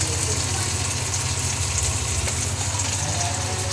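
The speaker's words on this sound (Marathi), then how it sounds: "आता होते मांदेली फ्राय." Mandeli fish frying at a Nalasopara fish market stall, a steady loud sizzle and crackle of hot oil running throughout, with busy market noise around it.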